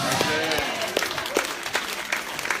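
Church congregation applauding at a prosperity-themed service, steady crowd clapping throughout with a few louder individual claps rising above the wash.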